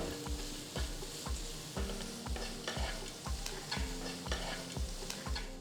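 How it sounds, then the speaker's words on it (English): A spoon stirs a tempering of hing, salt and coriander leaves in a hot pan, with repeated rhythmic scraping strokes over a constant close sizzle and no voices. "Now add a handful of coriander leaves and mix well."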